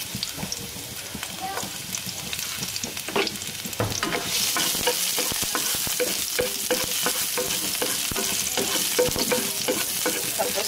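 Garlic dropped into hot oil for a bihon dish, starting with scattered clicks and scrapes before a loud, dense sizzle takes over and holds steady nearby.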